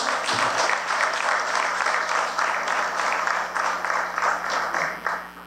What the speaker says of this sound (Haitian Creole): Nous demandons un gros bravo pour lui.